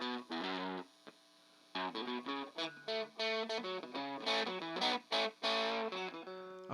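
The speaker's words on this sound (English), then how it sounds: "Yeah, now we're hearing distortion." A guitar plays through an ADAU1701 DSP distortion pedal, giving a series of loud, buzzy distorted notes and short chords in a choppy rhythm, with brief gaps of near silence between phrases.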